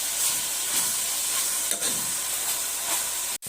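Onion, garlic and whole spices such as cardamom, black pepper, coriander and bay leaves sizzle steadily in a pot with occasional stirring, a close, continuous frying hiss with no voices.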